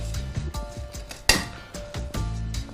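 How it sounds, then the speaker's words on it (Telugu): A frying pan set down on a kitchen stove gives a sharp metallic clank midway, amid softer clinks and shuffling of cookware under background music. "ఇప్పుడు పాన్ అది ఫ్రై పాన్ పెట్టుకుందాం"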